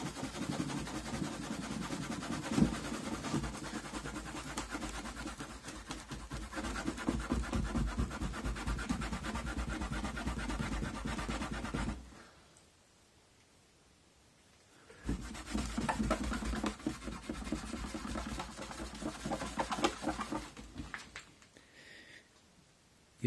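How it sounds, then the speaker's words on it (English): Rust being scrubbed off the metal parts of a 50-year-old Spanish guitar: quiet, steady rubbing and scratching strokes in two long runs with a brief silent pause between them, no voices. "Just clean it a bit, take the rust off, of course"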